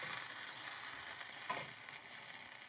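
Tomato sauce and parsley in a pan give off a faint, steady sizzling hiss, quiet and continuous throughout with no voices.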